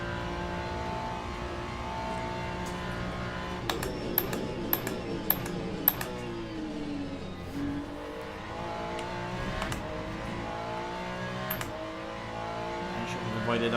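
A Ferrari race car in Le Mans Ultimate holds a steady engine drone, with its pitch climbing and falling through gear changes, punctuated by sharp clicks from shifts or kerbs, heard close from inside the car.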